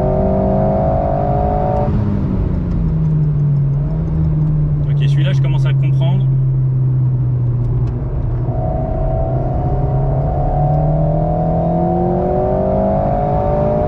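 Sporty car's engine revving and droning steadily while driven hard in sport mode, a loud continuous rumble with pitch rising and falling, under a voice talking.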